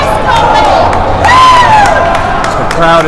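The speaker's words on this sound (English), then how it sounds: "the crowd is now cheering for the Chaparral goaltender" Loud crowd noise at an ice hockey game, a dense roar of cheering with rising whistles and shouts that swells mid-way, packed close and continuous.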